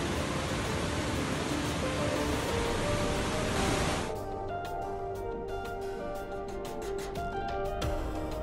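Steady roaring rush of a waterfall in the video game Planet Crafter, loud and continuous at first, then dropping to a softer background wash with faint clicks and tones after a few seconds.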